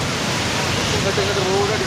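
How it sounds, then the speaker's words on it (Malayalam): Floodwater from a flash flood pours over the road at Kalkundu, a steady broadband roar of rushing water close by, with a voice speaking briefly above it. "കൽക്കുണ്ട് ഇങ്ങോട്ട് വെള്ളം മറിഞ്ഞിട്ടോ അതാ"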